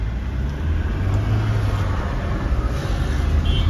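A modified 2022 Kia Carens cruises on an empty road, giving a steady, even drone of engine and tyre noise throughout, with no voices.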